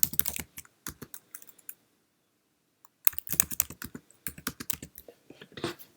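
Typing a folder name on a Mac keyboard, quick close clusters of key taps, a silent gap of about a second in the middle, then a denser run of keystrokes.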